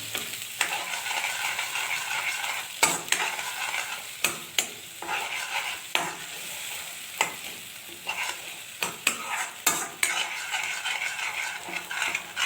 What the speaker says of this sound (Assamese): ভাজা হ'ব লাগিব ভালকৈ তেলত।